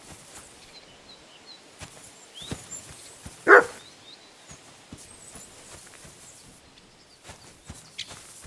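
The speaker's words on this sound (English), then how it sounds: "Barking? It's coming from over there." A dog barks once, sharp and fairly close, in the medieval role-playing game Kingdom Come: Deliverance II, standing out over faint patter and ambient noise with no talk.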